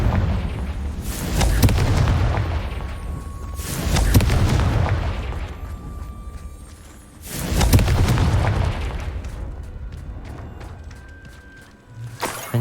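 Confringo blasting spell explosions in Hogwarts Legacy, three heavy booms a few seconds apart, each rolling into a long rumbling decay with scattered crackles.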